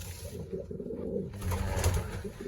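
Pigeons in a loft give low, soft cooing calls close by, with a continuous murmuring rumble and a faint rustle of movement, no talk.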